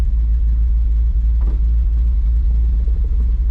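A two-speed-axle log truck with air brakes idles and begins pulling away in first low gear, its heavy diesel producing a steady deep rumble with a brief mid-range burst partway through, no voices.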